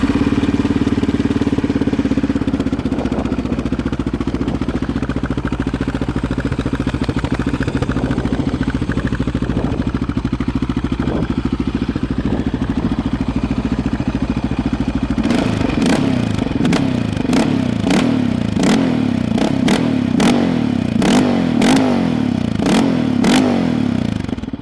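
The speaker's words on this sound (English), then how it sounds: "I'm going to go ahead and turn it on and let you guys hear it" A Yamaha Raptor 700 ATV engine idles with a steady rumble, then revs repeatedly in sharp bursts, loud and close, with no one talking.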